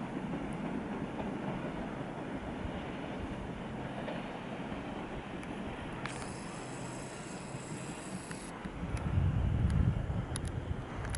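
Train, likely hauled by an ET22 electric locomotive, rumbling through Bełchów station with steady wheel noise and wind buffeting the microphone, a thin high squeal in the middle and a heavier low surge near the end.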